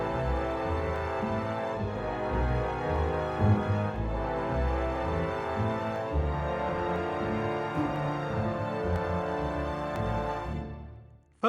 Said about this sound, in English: Today we're going to create a cue for Moody Trombones, which sounds like this.